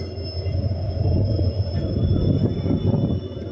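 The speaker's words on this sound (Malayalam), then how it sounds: "അപ്പുറത്തൊരു EMDയുടെ ശബ്ദം കേൾക്കാനുണ്ട്." An EMD diesel locomotive rumbles steadily nearby at a rail yard during shunting, a continuous low drone with a faint high whine on top and no talk over it.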